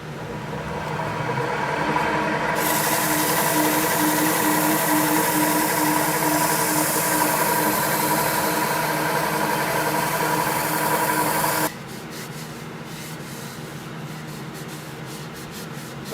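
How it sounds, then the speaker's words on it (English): Yorkshire grit abrasive rubs against a spinning tulip poplar bowl on a lathe, giving a steady, loud hissing friction over the motor's continuous hum. The friction drops off sharply near the end, leaving only the quieter running lathe. "Applying some Yorkshire grit."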